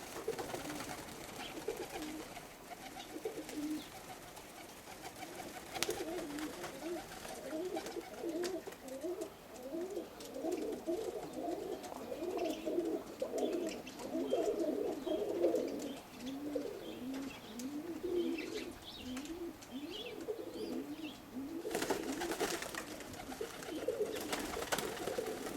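Young roller pigeons coo steadily in soft, repeated rolling phrases, close and continuous, with faint chirps and rustling around them.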